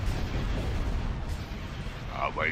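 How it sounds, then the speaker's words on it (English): Heavy quad turbolasers from a Star Wars Empire at War mod, Awakening of the Rebellion 2.8.1, pound away in a dense, continuous barrage of booming shots over a deep rumble, with a few faint high chirps near the end. "those are heavy quad turbo lasers"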